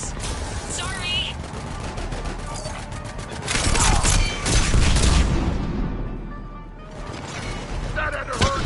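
Rapid gunfire and crashing impacts from a firefight in the video game Mass Effect 3, loud and dense throughout, with shouted voices over the shooting.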